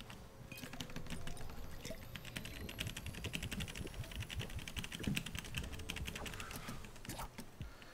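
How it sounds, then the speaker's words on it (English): Rapid clacking keystrokes on a mechanical computer keyboard come in a quick, continuous stream during a relaxed morning livestream. They sound close but fairly quiet, with no voice over them. "You guys will hear a little bit more of my keyboard now that I've changed my mic up"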